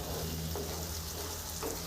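Potatoes fry with spices in oil in a pan, giving a steady, close sizzle that runs unbroken throughout, with faint stirring touches and no talk.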